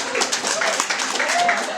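Brief, dense audience clapping in a conference talk hall, steady across under two seconds, with voices faintly audible beneath it.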